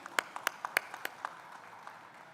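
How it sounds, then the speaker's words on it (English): Applause for a speaker at a trade summit, a handful of distinct sharp claps that thin out and fade, heard faintly at a distance. "a big round of applause"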